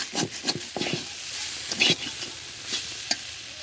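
Food fries in a pan while being stirred, with a soft steady sizzle broken by several sharp scraping stir strokes, close and fairly quiet, with no voices.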